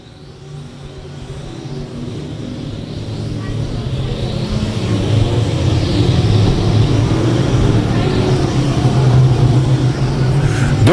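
E Mod race cars circling I-35 Speedway, a dense roar of several engines that builds steadily from moderate to loud and stays sustained, heard from trackside.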